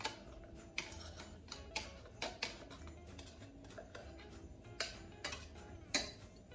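A utensil scraping sweetened condensed milk from the sides of a can, giving a quiet series of irregular light taps and scrapes, roughly a dozen small clicks spread over several seconds, close but faint.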